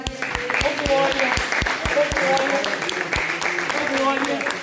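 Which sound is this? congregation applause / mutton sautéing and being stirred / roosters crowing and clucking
congregation applause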